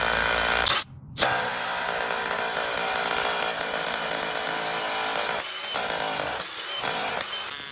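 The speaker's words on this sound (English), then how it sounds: "and you are ready to start drilling" A Dewalt rotary hammer drill runs continuously at close range, loud and steady, with a brief cutout near the start and a couple of short dips in pitch toward the end.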